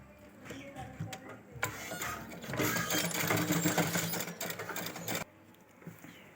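Sewing machine stitching pleats on fabric for a baby gown, a few brief taps and short starts, then a steady run of rapid mechanical whirring for a few seconds that cuts off abruptly.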